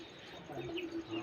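Kaldam pigeon cooing in soft, low, rolling coos, close by but quiet, repeating steadily for about a second.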